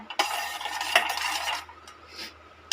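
A small spoon scraping and stirring a laddu mixture in a metal pan, a close, steady rasping that fades and then ends with a short clink.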